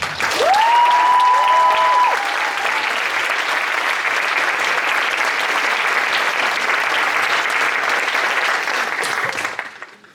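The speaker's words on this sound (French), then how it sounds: "Je vous demande d'applaudir très fort Muriel." Loud, sustained audience applause at a gala for a performer, a dense wash of many hands that holds steady for about ten seconds with a brief whistle-like tone near the start, then fades out at the end.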